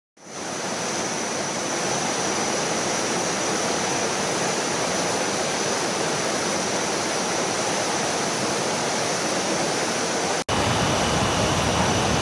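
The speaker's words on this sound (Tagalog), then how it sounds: "makikita parang waterfall dito ay Kong Kyo Volcanic Rock Waterfall" Kong Kyo Volcanic Rock Waterfall in Khao Yai National Park, Thailand, gives a steady, dense roar of falling water that stays loud and even throughout.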